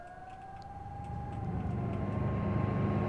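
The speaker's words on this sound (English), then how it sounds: "Sounds like a Jeep or something with wheels." A wheeled vehicle like a jeep in the WARNO strategy game, heard as a distant engine hum and tonal whine that grows gradually louder and nearer over a low rumble.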